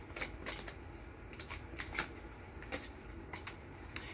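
Cards being shuffled for a card reading, a steady run of soft riffling slaps and flicks close by, fairly quiet, with no voices over it.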